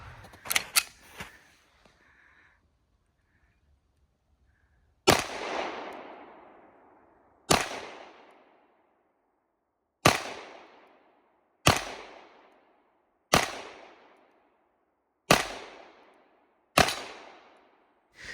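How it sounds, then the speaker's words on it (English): Shots from a Walther PDP pistol at an outdoor shooting range: a quick cluster of cracks opens the clip, then after a pause single sharp reports follow one by one, each ringing out with a decaying echo. "He shot 7 times"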